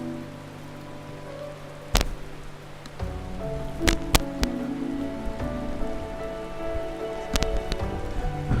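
Rain in the game Final Fantasy XIV, a steady close patter with scattered sharp drop impacts and a low background hum, no voices heard.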